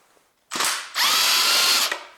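A power tool spins on Honda Civic 1.8 cylinder head cover bolts: a short whir, a brief pause, then a longer steady high-pitched whine that cuts off sharply, loud and close with no talk.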